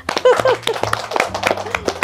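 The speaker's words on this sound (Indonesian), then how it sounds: "Kasih tepuk tangan dong." A small audience at a talk on the wedding and salon industry claps in a short run of distinct, close, sharp hand claps, with speech and a low steady hum underneath.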